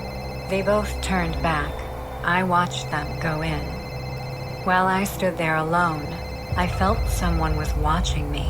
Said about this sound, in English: we heard someone's phone ringing